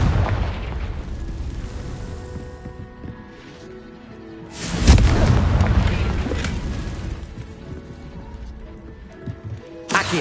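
A Confringo spell explodes in Hogwarts Legacy, a loud fiery blast standing out midway over softer spell effects and ambient game sounds, with a few other hits scattered around it.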